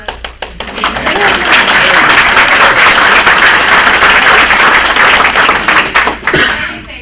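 Graduation audience applauding RN to BSN program graduates, loud dense clapping that swells after a few scattered claps and fades near the end, with a voice over it.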